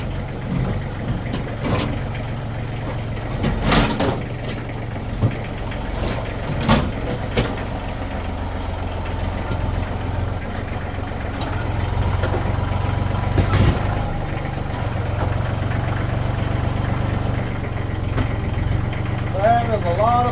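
A tractor engine idles steadily and loudly close by for the whole stretch, a constant low rumble with occasional clanks, while someone talks over it.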